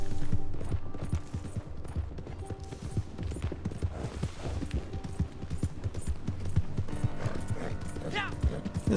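Steady clip-clop of horse hooves with a regular trotting rhythm, close and fairly loud, over busy game ambience with some mechanical clatter, in Red Dead Online.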